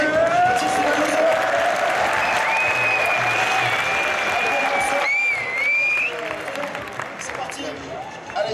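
Sustained applause from a crowd at a Super Street Fighter II X tournament final fills the whole stretch, with a loud wavering electronic tone over it and voices mixed in.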